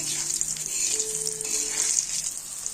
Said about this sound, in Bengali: এই যে তেলের মধ্যে শুকনো লঙ্কা দিয়েছেন